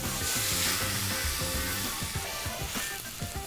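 Tomato sauce sizzles and bubbles in a pan after wine is poured in, a loud, continuous crackling hiss with irregular spitting pops up close.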